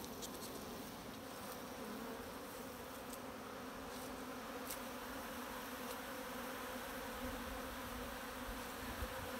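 Honey bees swarm around opened beehives in a bee yard, producing a dense, steady, continuous buzz that holds at an even level throughout with no talking.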